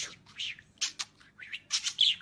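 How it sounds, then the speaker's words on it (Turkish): A budgerigar chatters in a string of short, bright squawks and warbles, close and fairly loud, with brief pauses between bursts. "Küfür eden muhabbet kuşu."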